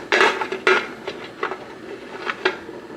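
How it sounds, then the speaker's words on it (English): A metal lid set onto a boiling canning pot, left unlocked, gives a few sharp metallic clanks followed by lighter rattles as it settles, close and fairly loud. "I'm gonna set the top on there, but I'm not gonna lock it."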